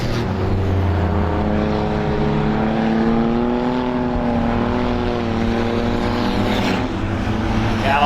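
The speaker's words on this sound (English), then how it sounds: "Now Hodgson real sideways halfway home this time by on a very wet Star Speedway right now for the LNW Auto Repair 6-shooters" Six-shooter race cars circling a very wet speedway at night, a loud continuous engine drone with rising and falling pitch as several cars run together, steady throughout without speech.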